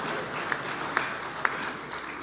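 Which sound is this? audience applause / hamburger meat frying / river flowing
audience applause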